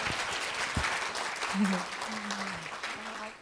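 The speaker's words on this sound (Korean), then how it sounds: "박수 한번 부탁드립니다." Audience applause fills a general assembly of a Korean consumer cooperative, a steady wash of clapping throughout with a few brief voices surfacing in the middle.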